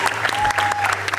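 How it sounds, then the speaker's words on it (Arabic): An audience at a televised show claps for children in dense, loud applause that carries on steadily throughout, with a faint voice mixed in beneath it. "تصفيقة كبيرة بيهم"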